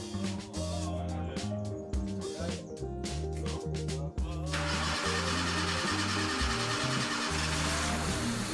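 A swapped engine in a Honda Civic cranks and fires up, with the starter whirring before it catches into a rough, loud idle, close by.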